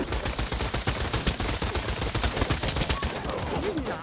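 Rapid, dense gunfire fills a Pavlov VR multiplayer match inside a house, with bursts of automatic shots cracking nonstop and loud throughout, some overlapping from several weapons.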